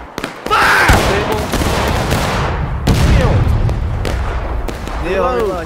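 A line of soldiers fires a musket volley in the War of Brothers video game, a loud ragged crackling burst followed by scattered further shots and rumbling echoes, with a voice calling out near the end.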